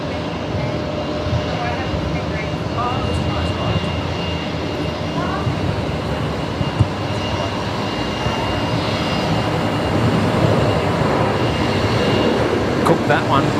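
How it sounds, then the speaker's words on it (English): A Jetstar airliner arriving from Sydney at Brisbane Airport rumbles as a broad, steady roar that swells slightly toward the end, with outdoor wind noise and brief voices under it. "Jetstar 828 in from Sydney"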